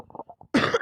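A single loud, close cough bursts out right after a few soft, muffled voice fragments, a sharp harsh blast lasting under half a second.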